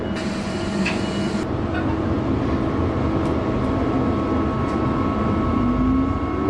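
A train rumbles steadily through a station in Brisbane, a low mechanical roar with faint high squeals and tones running over it, with no voices.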